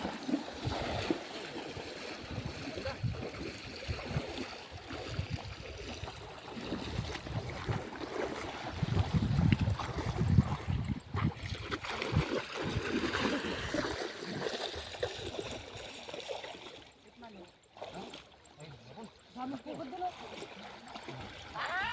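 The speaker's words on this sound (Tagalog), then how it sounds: "Lakas tubig." Strong river current rushing and churning steadily during a casting-net fishing trip, with water noise filling the scene throughout and voices speaking over it now and then.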